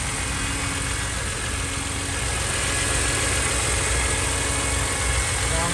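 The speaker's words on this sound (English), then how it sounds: "It's a nice little cold start." A stock 2006 BMW Z4 M with its inline six-cylinder engine idles steadily after a cold start, with a constant, even rumble holding close and loud throughout.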